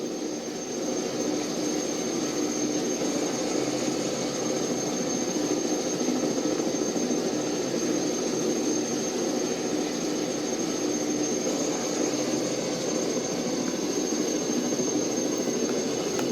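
Steady turbine whine and rotor drone of a Kaman SH-2G Super Seasprite helicopter in a flight simulator cockpit, a constant even hum with a high pitched tone on top, continuous and unchanging, with no talking.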